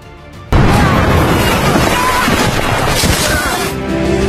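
A booby trap explodes in a war film: a sudden loud blast erupts and rolls into a sustained, roaring rumble of debris that fills the rest of the moment.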